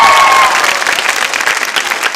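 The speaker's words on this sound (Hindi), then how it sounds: "तालियां जोरों से बजनी चाहिए" Loud, close audience applause at a Holi quiz show in a girls' B.Ed college, a brief dense burst of clapping that stays strong for about two seconds, with a faint tone at the start.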